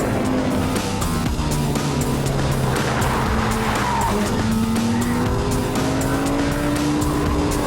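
A supercar racing flat out on a track at about 150 mph, with a loud, close engine howl climbing through the gears and tyres squealing and skidding under it, no talking.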